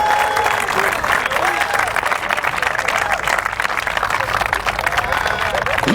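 A church congregation breaks into dense, continuous applause and cheering that fills the room loudly and evenly for the whole stretch, with voices shouting among the clapping.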